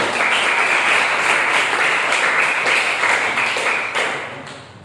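Classroom audience at a teacher-training measurement lesson claps together, a loud sustained patter of many hands that keeps an even pace before tapering off near the end.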